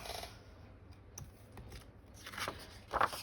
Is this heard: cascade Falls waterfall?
no